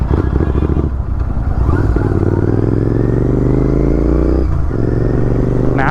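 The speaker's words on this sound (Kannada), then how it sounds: "ಇಲ್ಲಿ ಡೌನ್ ಇರುತ್ತೆ ಸ್ಪೀಡ್ ಬ್ರೇಕರ್" A motorcycle rides along a Kerala road over a dipped speed breaker near Muzhuppilangad beach, its loud, close engine droning steadily with a few clattering bumps and shifts in pitch as it crosses the dip.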